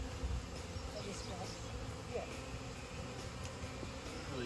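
A swarm of honey bees being caught into a hive frame, a constant low buzzing drone of many bees up close, with faint voices and handling noises underneath.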